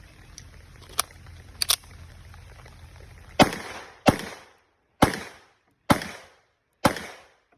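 Five sharp, loud pistol shots from a Springfield Prodigy, evenly spaced about a second apart, each with a short decaying echo, after a few fainter clicks and handling sounds.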